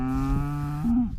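A dairy cow on a summer pasture in New Zealand gives one loud, close moo that rises slightly at the end, heard clearly with no talk over it.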